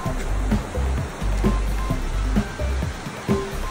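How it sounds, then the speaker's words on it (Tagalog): A river in a forested nature spot runs steadily, its rushing water flowing continuously nearby with periodic low thumps and surges, no talk over it. "Yun, ito yung ilog, oh."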